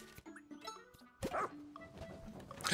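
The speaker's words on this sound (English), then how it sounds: "Bark." A dog barks in the Pikmin 4 video game, a few short yips and barks among game sound effects and chimes, moderately loud and close.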